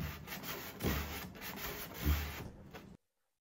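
Steady abrasive rubbing of sanding old finish off an antique wooden dresser, continuous with a couple of heavier strokes, close by, then stopping abruptly.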